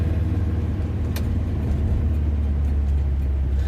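A MKIV Ford Zephyr V4 car driving at night, its engine giving a steady, loud, low drone from inside the cabin with a faint click partway through.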